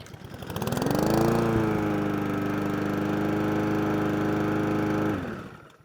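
A lawn mower engine that had been refusing to run starts up, runs with a steady, loud drone for several seconds, then cuts off and fades away.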